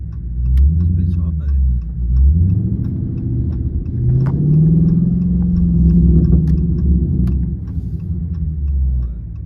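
A Scat Pack muscle car with cold air intake and throttle body spacer being driven hard, its engine rumbling loudly and surging through revs close by, with people talking over it inside the cabin.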